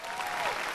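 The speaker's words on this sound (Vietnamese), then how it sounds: "vỗ tay cho Quốc Dương nào." A TV music contest audience applauds a child contestant in a short, dense burst of clapping at moderate loudness.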